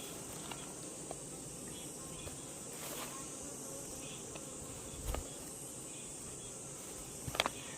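Honeybees with small, thin bodies drone around a hive in a continuous soft buzz, faint and steady, with a few brief louder passes close by and no talking.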